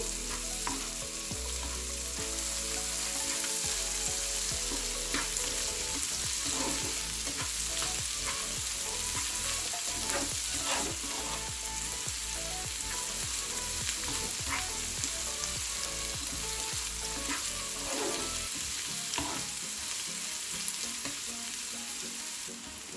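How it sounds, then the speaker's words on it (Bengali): Onions frying in oil in a frying pan with a bay leaf, cardamom and cinnamon, giving a steady, close, continuous sizzle with occasional stirring clicks and no talking. "তো আমি একটু পেঁয়াজগুলোকে ভেজে নিচ্ছি।"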